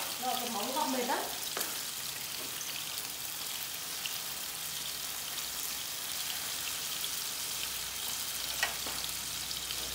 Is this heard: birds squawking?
no